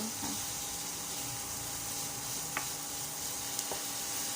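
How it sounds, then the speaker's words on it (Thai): Onion being stir-fried in melting margarine in a pan on an electric stove, with a steady soft sizzle and occasional light clicks of a spatula, fairly quiet and without talk. "เดี๋ยวมาการีนมันก็จะค่อยๆละลายไปนะคะ ผัดไปก่อน"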